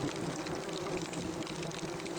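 Dense, continuous buzzing of many wasps, steady and muffled inside a bathroom exhaust vent, with no pauses.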